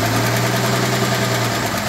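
A 1955 Ford F100 engine idles close by after a valve lash adjustment, a loud, steady, even rumble with a fast rhythmic tick running through it and no voices.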